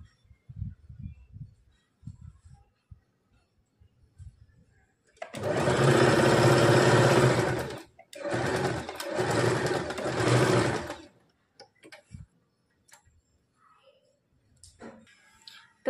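A sewing machine stitches tucks on a princess-cut blouse in two runs of close, steady whirring, about three seconds and then two and a half seconds, with quiet clicks and handling before and after.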